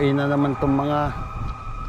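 Wailing sirens from fire trucks and ambulances on a Vancouver, Canada street, rising and falling clearly in the near distance while a person talks over them.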